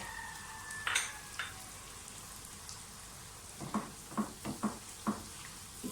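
Chicken korma masala fries softly in a pan as yogurt goes in, giving a gentle sizzle broken by a few soft plops and a run of stirring scrapes near the end. Nobody speaks.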